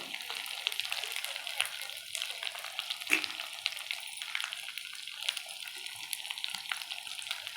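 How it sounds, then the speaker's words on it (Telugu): Ginger garlic paste frying in a generous amount of oil for a chicken liver fry, a steady close crackling sizzle with occasional stirring scrapes and no talk. "ఇలా అల్లం వెల్లుల్లి పేస్ట్ అంతా కూడా పచ్చివాసన పోయేంత వరకు వేయించుకొని"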